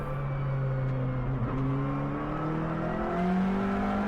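Tyre squeal from a car in the iRacing sim, a sustained tonal screech whose pitch slides slowly over a steady engine drone, fairly close and continuous with no talk.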